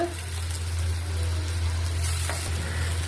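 Rice with ginger and garlic paste, bay leaves and onion fries in a pot for chicken biryani, giving a steady, close, even sizzle that holds without a break for the whole stretch.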